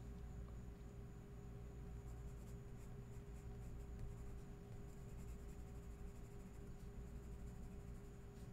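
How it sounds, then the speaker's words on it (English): Pencil drawing on paper during a misty cornfield sketch, a steady soft scratching of graphite strokes running continuously under a constant low hum, with no talking. "So I'm using the pencil to just kind of emphasize some of these areas."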